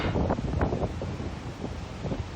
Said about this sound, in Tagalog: Malakas ang hangin at alon nang mangyari yan.